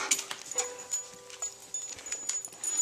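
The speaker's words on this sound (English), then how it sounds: "What are you barking at?" A dog whimpers and yips in short, high, uneven bursts at a shish kebab cookout, close by and fairly quiet, with a few sharper barks mixed in.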